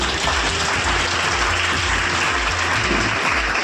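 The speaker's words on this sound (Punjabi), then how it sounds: "ਜ਼ੋਰਦਾਰ ਤਾਲੀਆਂ" An audience gives loud, sustained applause at a film cast event held at an educational institute, a dense unbroken wash of clapping that carries on steadily from start to finish with no voices on top.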